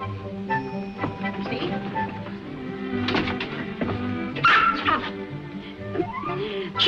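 A small dog yips, barks and whimpers in a series of short high cries over background music and room noise, fairly close and irregular in rhythm.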